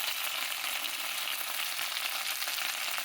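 Okra frying in a pan for mutton curry, a steady close sizzle and crackle of hot oil that runs unbroken throughout.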